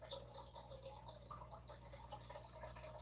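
Water from a home fish tank drips and trickles steadily, a soft close continuous patter with no voices.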